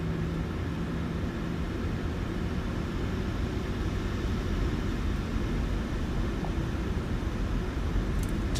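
Airliner engines in Microsoft Flight Simulator, a PMDG jet, spooling up on the runway at Dammam for takeoff: a steady, dense broadband roar that holds loud and even throughout, with no talk over it.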